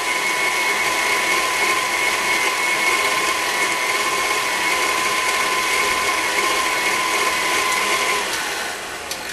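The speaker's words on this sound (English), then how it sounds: "And make sure that's well combined. Whisk that in there." A whisk beats carob brownie batter in a bowl, making a continuous close rapid scraping and clattering with a steady texture that stays even throughout and eases off at the very end.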